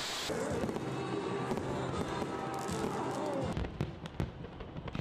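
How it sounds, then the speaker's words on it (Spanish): New Year's fireworks crackle and pop continuously in a dense, distant barrage, with a few sharper bangs standing out toward the end. "también festejaron con impresionantes fuegos artificiales la llegada del nuevo año"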